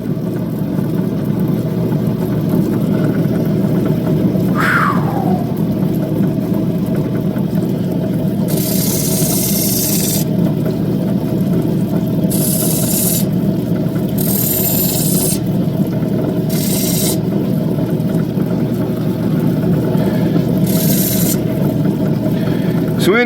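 A saw cuts through opal with a continuous grinding whine, broken several times by short, harsh bursts of scraping as the stone is pressed into the blade. Quiet talk is heard under the noise.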